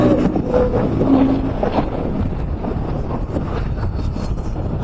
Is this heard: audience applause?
no